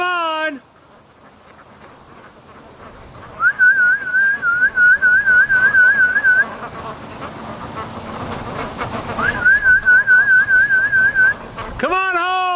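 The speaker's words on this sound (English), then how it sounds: "So let's do some whistling and get the ducks to come home." Someone whistles to call ducks in two warbling trilled phrases separated by a pause, over low outdoor rumble, with a brief voice at the very start and end.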